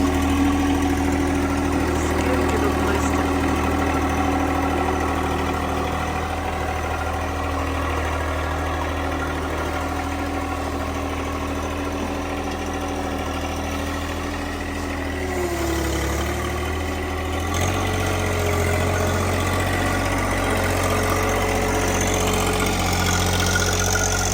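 A tractor engine runs steadily throughout while leaves are cleared from a yard, its loud mid-pitched drone and vibration continuous with a brief dip partway through, and no voices.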